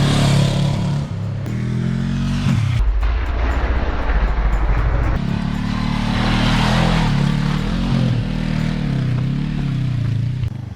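A Honda CB500X motorcycle ridden over mixed terrain, its engine droning steadily throughout with shifts in pitch as the rider changes speed, loud and close with wind noise over it.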